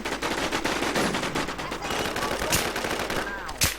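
Rapid gunfire from the video game Warz crackles in dense bursts throughout, with a couple of sharper loud shots near the end and faint voices mixed into the game action.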